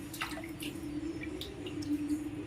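Squid being cleaned by hand under water in a kitchen, with light drips, splashes and gurgles over a steady running-water hum, close and alone.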